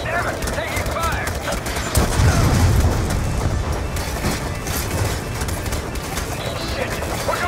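Gunfire in the Black Ops 6 video game, sustained rattling shots over a dense battle din, with a louder burst around the middle, mixed under shouted in-game dialogue.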